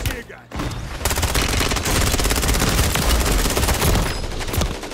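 Sustained rapid automatic gunfire in the Call of Duty video game, loud and close, rattling in a dense burst for several seconds after a brief quiet start.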